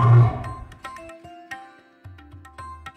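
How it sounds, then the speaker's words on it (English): A lion roars loudly up close in one big opening burst, followed by fainter grunting tails and scattered clicks over a low hum. "This is a lion. And this is what it sounds like."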